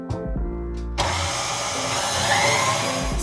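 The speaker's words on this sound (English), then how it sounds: "whipping a softened block of cream cheese in our KitchenAid" A KitchenAid stand mixer whips a softened block of cream cheese with maple syrup, starting with a brief hum and then a loud, steady whirring drone that runs on alone.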